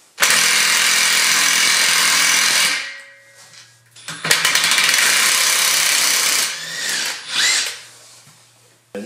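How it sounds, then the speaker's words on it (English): A VersaDrive ImpactaDie power tool cuts an external thread on a metal bar, giving a loud, steady whirring drill run that stops, then restarts in shorter bursts before winding down. "And now cut our thread to the end there."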